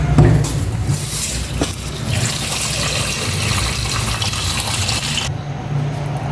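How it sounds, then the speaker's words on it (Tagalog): Water gushes steadily into a cooking pot on the stove for several seconds, a continuous splashing fill that keeps going until it cuts off abruptly near the end. "maglalagay ako ng tubig"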